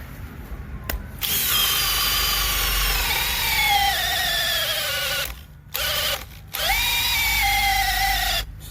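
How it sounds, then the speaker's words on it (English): A Makita brushless hammer drill bores into wood with a loud, close whine that bogs down in pitch under load, cuts out twice for short pauses, then spins up again, with no voices. "Remarkably smooth, this Makita."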